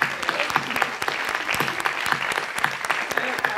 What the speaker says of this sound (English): Give Caroline an applause.